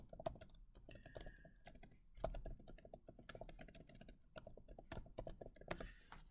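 Typing on a computer keyboard while working through a geometry volume problem, with rapid irregular clicks in bursts and a few louder key strikes, no talking.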